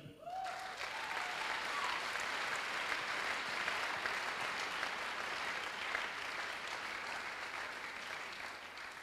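A church congregation breaks into sustained applause that fills the whole stretch, a dense, even wash of many hands clapping at a moderate distance with no voices standing out.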